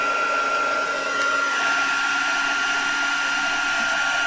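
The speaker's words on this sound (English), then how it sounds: "Let me get the heat gun and we'll see what happens." Heat gun blowing hot air onto old tape on a Christmas Little Golden Book, a steady close airy roar with a constant whine running evenly throughout, no talk over it.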